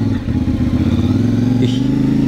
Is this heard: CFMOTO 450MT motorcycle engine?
yes